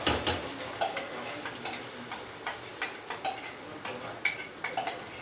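Tomato puree goes into a pan and a ladle stirs it, making a series of light clinks and scrapes at an uneven rhythm, quiet and close.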